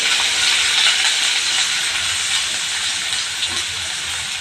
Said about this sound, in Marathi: मी पहिल्यांदा हा बारीक चिरलेला कांदा घालणार आहोत